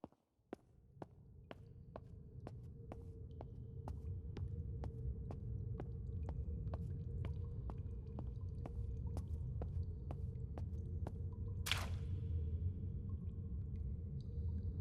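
Water drips in the video game Vein in a slow, even series of faint plinks over a low ambient hum, with a brief hiss near the end.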